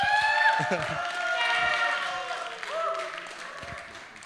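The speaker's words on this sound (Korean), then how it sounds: "박수 부탁드립니다." A church youth worship congregation claps at moderate volume, the applause rising and falling, with a voice speaking over it at the start and again near the end.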